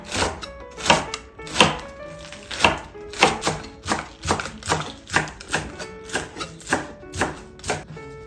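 A knife slices through layered, stacked green onion tops on a cutting board, cutting them diagonally for storage, giving a steady series of crisp chopping thuds at a relaxed, even rhythm, close and clear.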